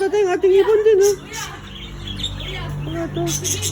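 A bird gives a run of high, wavering chirps up close, then falls quieter while people murmur in the background.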